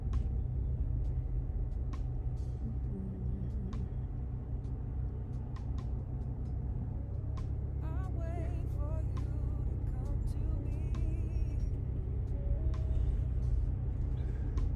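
Road traffic heard from inside a moving car, a steady low rumble and hum of tires and engine with faint passing vehicles and small clicks, continuous and fairly quiet throughout.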